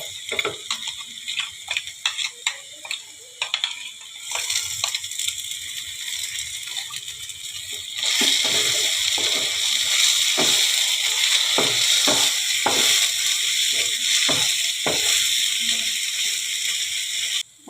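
Poppy seeds frying in oil for a Bengali onion-poppy-seed dish, with a steady loud sizzle and scattered crackling ticks that swell and grow denser partway through, no talking.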